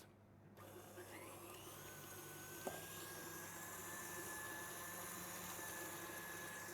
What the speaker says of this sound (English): I'm lucky because I have a large mixer with a deep bowl, and the butter and sugar is staying inside the bowl.